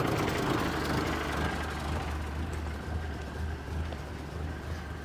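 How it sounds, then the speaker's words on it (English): The engine of a 1929 Ford AA tow truck idles with a steady, low, rumbling drone, continuous and fairly loud throughout, with no voices. "And it fires right up."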